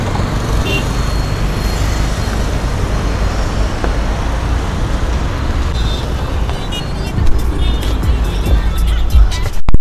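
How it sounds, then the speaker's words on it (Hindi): Heavy road traffic rumbles continuously nearby, with a dense wash of engine noise, passing vehicles and faint chatter, growing louder toward the end. "इतने ज्यादा ट्रैफिक है"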